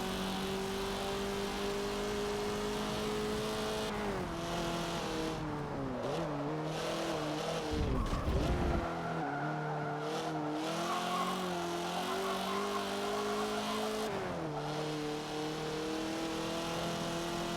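A race car engine drones at full power in the video game Forza Motorsport 7, holding steady then dropping and climbing again through corners, with a brief tire scrub midway; loud, close and continuous, with no talking.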